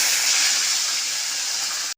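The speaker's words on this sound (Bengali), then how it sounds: "তেল গরম হয়ে গেছে, আগে মাছটাকে ভেজে নেব।" Fish frying in hot oil, a loud, continuous close sizzling hiss that holds steady and cuts off abruptly.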